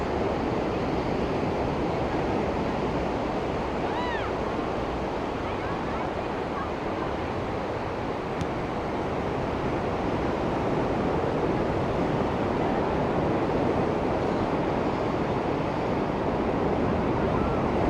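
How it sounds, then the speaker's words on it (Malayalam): Pacific Ocean surf rolls onto a San Francisco surfing beach as a broad, unbroken roar of breaking waves, heavy with wind rumble, steady and loud throughout. "അത്യാവശ്യം നല്ല വേവ്സ് ഉണ്ട്"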